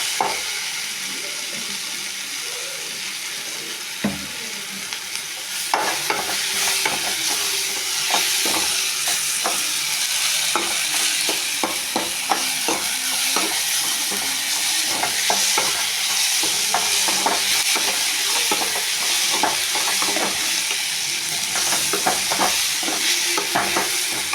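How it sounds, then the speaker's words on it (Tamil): Ridge gourd sautéing in oil for chutney makes a loud, continuous sizzle, with dense rapid spatula scrapes and taps across the pan throughout. "கொஞ்சம் நல்லா எண்ணெய் விட்டு வதக்கிக்கோங்க."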